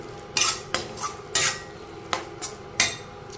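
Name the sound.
stirring tomatoes and ginger-garlic paste in a pan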